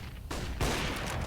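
A grenade detonates in a Counter-Strike: Global Offensive match, a sudden loud blast with a second heavier burst right after, both broadband and close.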